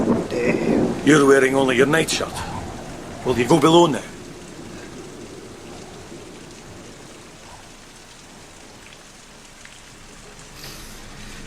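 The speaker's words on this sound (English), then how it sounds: "It's coming on to blow, sir, and the rain is thickening." Rain and wind lashing a ship at sea during a storm, a steady broadband wash that runs beneath a voice early on and then carries on alone at moderate loudness.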